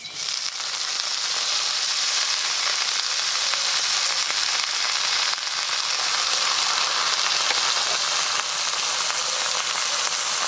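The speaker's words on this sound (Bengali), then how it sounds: "এবার দিয়ে দেব কেটে রাখা বাঁধাকপি।" Chopped cabbage frying in hot oil with black cumin seeds, a steady loud crackling sizzle that holds evenly throughout with no talking.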